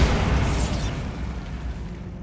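A Bombarda spell explodes in the Hogwarts Legacy video game, a sudden booming blast at the start that rumbles and fades away over about two seconds.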